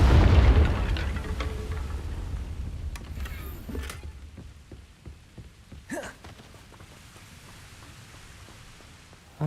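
A deep booming explosion from the Confringo spell in a video game opens loudly, then decays into scattered thuds and soft rustles, with one sharper burst midway.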